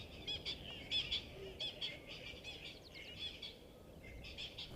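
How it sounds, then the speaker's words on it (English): Bird calls from a Burchell's coucal in an African wildlife setting, a series of faint, distant chirping and squawking phrases repeating through the clip over quiet background noise. "Definitely a Birchall's cuckoo calling in the background there."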